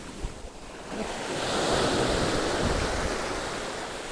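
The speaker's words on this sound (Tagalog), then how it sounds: "Mahangin talaga" Strong wind roars against the microphone on a fishing trip, building into a heavy, steady rush with a surf-like whoosh.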